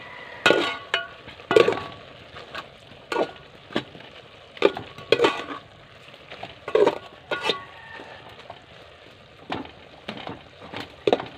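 Stirring and clinking in a pot as coconut milk goes into cooking banana heart for ginataang puso, with repeated scraping and clattering strokes near the mic and a faint simmer underneath, no talk.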